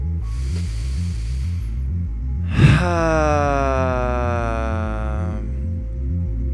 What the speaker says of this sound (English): Inhale through the nose. Exhale it out through the mouth.